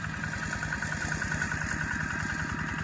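A Kubota 15.5 hp automatic riding lawn mower runs steadily at a constant throttle while cutting grass, its engine a close, even, throbbing drone with no voices.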